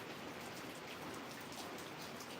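Steady rain falls outdoors in a continuous, even hiss of drops hitting the ground, soft and alone with no voices.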